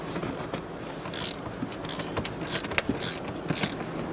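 A ratchet wrench loosens the front seat bolts of a Volvo XC, giving close, quiet clicking and scraping metal sounds in short irregular bursts, with no talk.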